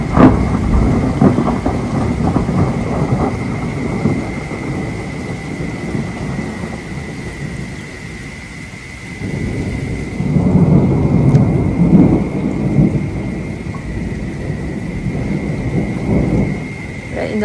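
Early autumn thunderstorm over a garden, with steady loud rain and long rolling rumbles of thunder that swell and fade over the whole stretch, no voices present.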